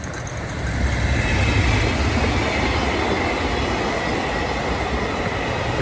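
A dark night train rumbles past near an old station and tunnel in Japan, a steady, loud rolling roar of wheels on rails that swells in the first second and holds throughout.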